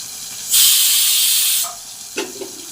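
Onions dropped into hot oil for mutton paya burst into a loud, close hiss that holds for about a second before fading, followed by a couple of small clatters.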